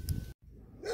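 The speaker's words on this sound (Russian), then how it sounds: "Вот собаки меня встречаются соседские." Neighbours' dogs barking outdoors, a short yelp followed after a brief pause by a rising whine or bark, fairly faint and somewhat distant.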